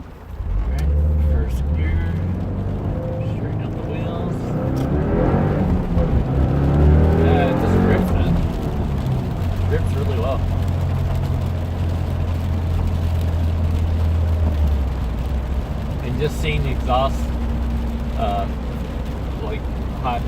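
A 2015 Subaru WRX with a Stage 1 tune pulls hard in first gear on a rainy day, its engine droning loudly and rising steadily in pitch from inside the cabin, while someone talks over it.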